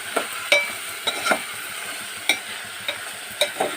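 Onion frying in oil in a home kitchen while salt is stirred in, giving a steady soft sizzle broken by several sharp spoon scrapes and taps against the pan.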